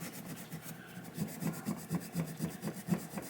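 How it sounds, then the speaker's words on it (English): A worn Scotch-Brite pad scrubs the score reel of a 1976 Williams Grand Prix pinball machine, making a quiet, rhythmic rubbing rasp in repeated strokes about every quarter second. "Take one of my old beat Scotch-Brite pads,"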